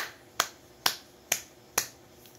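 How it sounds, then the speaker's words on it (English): A classroom group claps in unison, four sharp, evenly spaced claps about half a second apart, crisp and close in an otherwise quiet room. "let us give them 5 claps"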